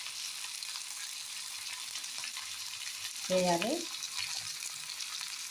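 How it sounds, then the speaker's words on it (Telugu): Tomato fries in oil for a masala chicken gravy, giving a faint steady sizzle. A brief word is spoken partway through, along with a short clatter. "నూనెలో బాగా వేగే వరకు 10 మినిట్స్ అవుతుంది."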